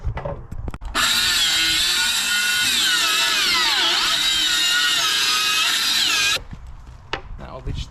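A power saw rips timber into strips for cladding, with a whining high-pitched motor that starts abruptly, holds steady for about five seconds, dips briefly under load and then cuts off, with light handling noises around it.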